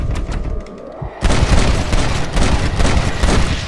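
Gunfire from a revolver in the Western video game Red Dead Redemption: a quieter opening, then a loud burst at about 1.2 seconds followed by dense, repeated booming shots and rumble, with no talking.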